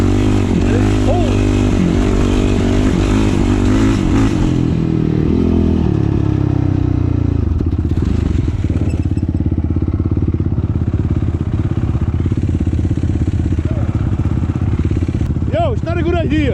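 Honda TRX450R ATV engine, kickstarted on a cold day after possible flooding, running loud and close with a rough, throbbing idle and a few revs, with people talking over it.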